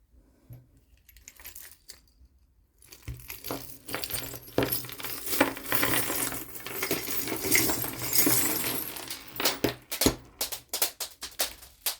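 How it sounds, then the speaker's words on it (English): Small shiny collection pieces and beads spill and clatter onto a floor, a burst of many tiny clinking, rattling impacts building into a dense loud cascade, then scattered individual clicks and bounces as they settle. "I can hear several things falling on the floor."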